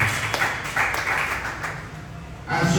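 A church congregation claps and cheers together in praise, a steady wash of applause with voices mixed in, fairly close and continuous, swelling again near the end.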